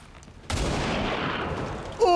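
A single rifle shot in XCOM 2 erupts as a sudden loud blast, followed by a sustained rumbling roar and debris-like noise that rolls on for over a second, then a sharp electronic effect at the end.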